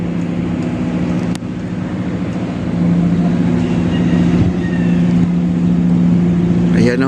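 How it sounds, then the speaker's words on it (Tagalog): A small yellow tugboat pushes a barge along a riverbank, its engine giving a loud, steady low drone with a constant hum that holds throughout, close by, with a brief squeal near the end. "Yung maliit na tugboat lang, oh."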